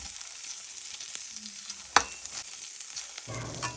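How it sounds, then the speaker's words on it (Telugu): Cubed paneer frying lightly in ghee in a pan over medium flame, a soft crackling sizzle with a sharp utensil clink partway through and louder sizzle near the end. "ఇప్పుడు పనీర్ వేసిన తర్వాత మీడియం ఫ్లేమ్ పైన లైట్గా ఇలా ఫ్రై చేసుకోవాలి"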